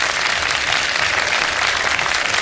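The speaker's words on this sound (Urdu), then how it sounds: "تالیاں تو بجا دیں بھائی" A studio audience at a televised Ramadan iftar show claps loudly and continuously, a dense, even roar of many hands with no break.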